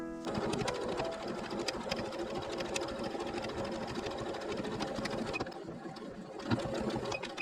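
Sewing machine stitching a fabric wallet: a steady, fast mechanical rattle of the needle running continuously at close range, pausing briefly near the end before resuming.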